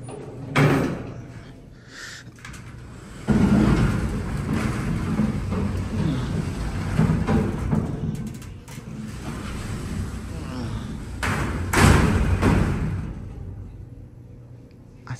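Heavy pass-type doors on a modernized Otis hydraulic freight elevator slide and thud shut with loud rumbling and clanks, close by over several seconds, while a person talks throughout.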